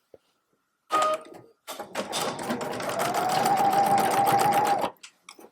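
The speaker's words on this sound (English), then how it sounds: "what I do is I sew straight across" A sewing machine stitches a straight seam across a tote bag, two short bursts of stitching followed by a longer steady run, close and clear with no talk.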